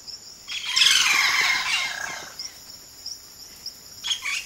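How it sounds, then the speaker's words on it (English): Bright, buzzy bird calls swell loudly for a couple of seconds, then give way to scattered short chirps and a final burst, no voices present. "They are gifted ventriloquists. A single bird can sound like a chorus."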